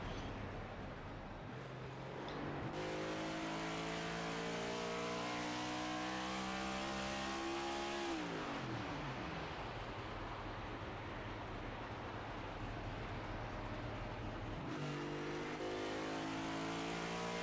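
Stock-car race engines at Iowa Speedway in a Cup Series race, a loud sustained roar with rising and falling pitch as cars sweep past and ease off into the corners, then build again, with no talk over it.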